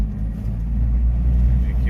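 Low, steady engine rumble from a John Deere minitruck pulling under load in fourth gear, close and continuous, with a voice faintly talking over it.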